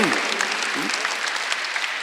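A church congregation applauds during a Sunday worship service, a brief, steady wash of many hands clapping at moderate loudness, with a preacher's voice briefly heard over it.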